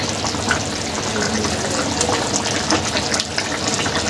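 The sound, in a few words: fish curry broth boiling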